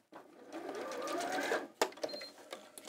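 Sewing machine stitching across fabric and over a ribbon, a close whirring burst of motor and needle rising in pitch, then a sharp stop followed by a few small clicks.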